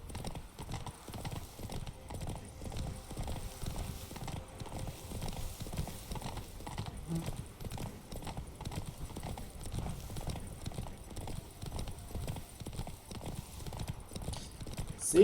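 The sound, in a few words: horse hooves clip-clopping, from the video game The Witcher 3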